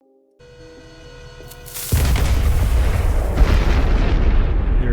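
Minecraft Movecraft cannon firing in a video game: after a faint tonal hum, a loud booming blast hits at about two seconds and rolls on as a sustained, rumbling roar of explosion noise with no talk.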